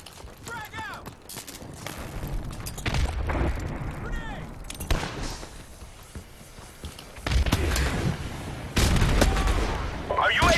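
In a Modern Warfare Remastered search-and-destroy match, a frag grenade blast booms amid scattered gunfire, footsteps and shouted game voice lines, with several sharp bursts in quick succession.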